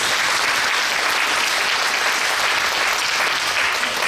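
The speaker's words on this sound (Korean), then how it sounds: "박수 한번 보내주시면 됩니다" Dense, steady applause from a large church audience at an inauguration worship service claps continuously throughout, loud and close.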